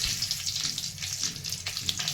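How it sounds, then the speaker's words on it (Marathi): Mustard seeds splutter in hot oil for a brinjal bharta tempering, a steady sizzle dotted with quick crackling pops, close and moderately quiet, with no voices. "मोहरी छान तडतडली"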